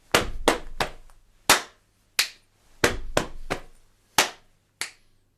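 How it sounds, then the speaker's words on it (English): Body percussion in a repeating pattern of sharp, close hits: pairs of leg slaps, a chest tap, a clap and a finger click, about a dozen crisp strikes spaced in a steady rhythm, with no talking. "2 leg slaps, chest, clap, click, as we have done before"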